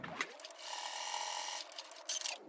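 A sewing machine runs in one steady, continuous burst of stitching for about two seconds as it closes a seam in knit fabric for a sailor bow, then stops with a brief rattle.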